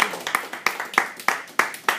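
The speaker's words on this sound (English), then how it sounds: "Let's give Brother Minister Tom Harrell another round of applause." A single pair of hands claps in a slow, even rhythm in a church congregation after a sermon, each clap sharp and close, roughly three per second, with a faint crowd behind.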